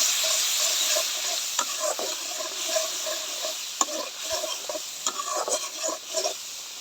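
Spice masala of chilli and coriander powder frying for a vegetable curry, a soft, moderate sizzle broken by irregular scraping and tapping strokes of a spatula stirring in the pan.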